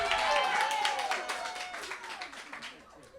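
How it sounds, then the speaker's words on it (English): Audience at a book event clapping briefly, a short burst of applause that starts loud and fades, with a person's voice heard over it. "Can we have applause?"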